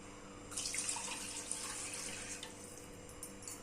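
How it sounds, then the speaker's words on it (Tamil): Water pours steadily into a pressure cooker for a few seconds, a continuous splashing gush with no talking. "அதனால் இதில் 4 டம்ளர் தண்ணி ஊற்றிக்கிறேன்"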